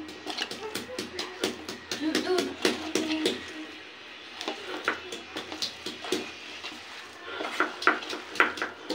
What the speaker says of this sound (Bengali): এই ডালগুলোর মধ্যে পেঁয়াজগুলো দিয়ে ভালো করে কচলিয়ে নেব